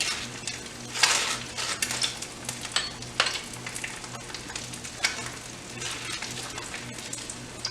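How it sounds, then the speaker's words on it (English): An egg fries in a pan with a steady crackling sizzle, close and continuous, with occasional small pops and light utensil taps; no one talks. "Now while our egg is frying"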